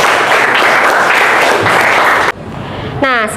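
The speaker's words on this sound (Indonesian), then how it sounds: "Kasih tepuk tangan dulu untuk Yoga sama Nadine ya" Students in a physics classroom applaud for two classmates, a dense wash of many hands clapping that cuts off abruptly, followed by a brief quieter stretch and a short tonal sound.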